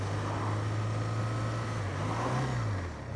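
The engine of a 2025 BMW R12GS motorcycle drones steadily while riding, a close, continuous low note that shifts pitch slightly as the throttle changes, ending with a brief rise and fall.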